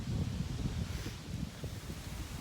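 Steady wind gusts outdoors during a mid-season small game hunt, a continuous low rumbling buffet of air against the microphone with faint rustling, fairly loud and unbroken throughout.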